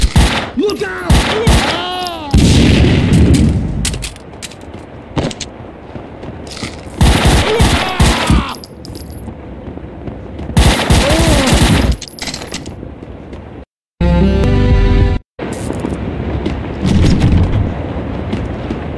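Gunfire from the video game Max Payne 2 comes in loud, close bursts of rapid shots and booming blasts, separated by brief lulls and a sudden cutout. Game voices are also heard.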